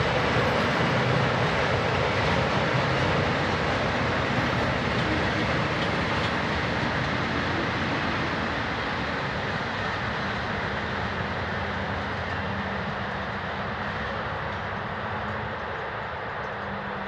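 Swiss Re 6/6 Class 620 electric locomotive 11629 runs on the line from Huttwil, its broad, steady rumble and rolling hiss holding loud and even throughout before easing slightly at the end.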